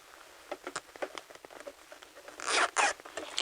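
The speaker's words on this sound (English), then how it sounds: "open your zipper" A zipper on a sewing project being pulled open, heard as a series of short scratchy rasps and clicks, close and fairly quiet, with a longer louder zip pass near the end.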